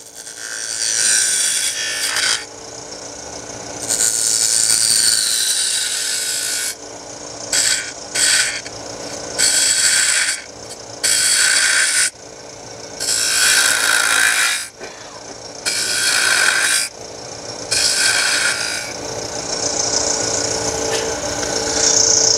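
A wood-turning tool cuts into a spinning wooden piece on a lathe, giving repeated bursts of harsh, hissing scraping, each a second or two long, over a steady motor hum, close and loud.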